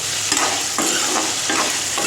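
Cabbage and potato stir-fry in a hot pan with a constant sizzle, and a spatula scrapes through it in a few rhythmic strokes. No one talks.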